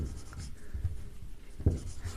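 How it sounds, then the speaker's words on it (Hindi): Marker or chalk strokes on a board during a Hindi history lesson about Rajasthan's Jaigarh fort, a steady scratchy writing sound with a few louder taps, close and fairly quiet, with no talk over it. "तो लिख सकते हैं मिर्जा राजा"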